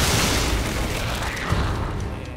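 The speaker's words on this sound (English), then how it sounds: "Because they'll die to the grenades." Grenade blasts in Resident Evil 7 produce a loud, broad rumbling boom that fills the whole span and slowly fades, with a small extra pop about halfway through.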